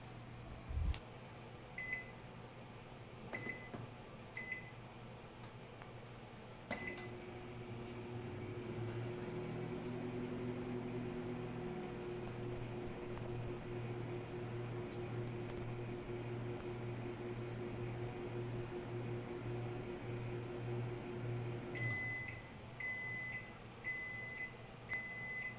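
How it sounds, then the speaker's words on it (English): A microwave oven hums steadily while heating a tablespoon of an ingredient for gluten-free biscuits in a bowl. It opens and closes with sharp electronic beeps and stays quiet and close throughout. "And we're gonna microwave it."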